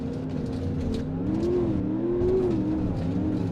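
A Gavril H45 Boxvan engine in BeamNG.drive, running hard and down on power, revs up in a sustained, rising and falling drone with a whirring mechanical edge, loud and close, with no one talking.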